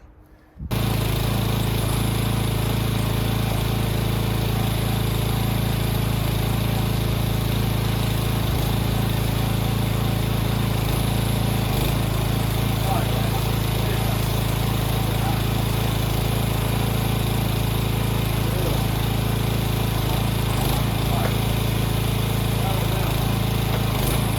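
Pressure washer engine running steadily with an extension wand for gutter cleaning, a loud continuous motor drone with little change from start to end.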